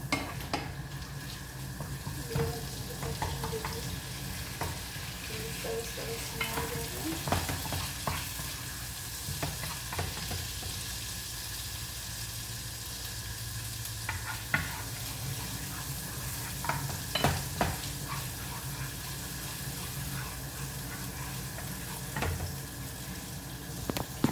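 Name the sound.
frying and stirring in a pan, Saudi egg shakshuka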